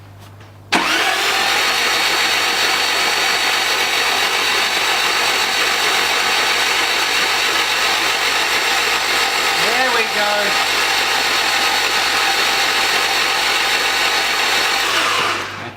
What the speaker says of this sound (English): you could actually just hear the engine slightly change note when it picked up a bit of pressure there